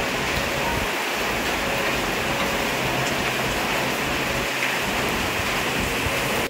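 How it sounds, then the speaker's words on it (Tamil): Heavy rain pours down in a dense, constant roar, close and loud throughout, with no voices, ending abruptly. "இன்னைக்கு சொன்ன மாதிரி வந்து பார்த்தீங்கன்னா செம்ம மழை ஸ்டார்ட் ஆயிடுச்சு"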